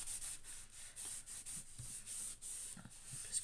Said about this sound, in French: Je vais retourner pour bien lisser.